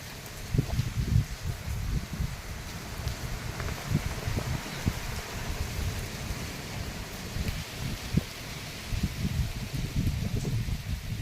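Gusty wind buffeting with a rough, rushing texture and intermittent low rumbles, rain-like hiss underneath from rain falling nonstop for over a day, no talking.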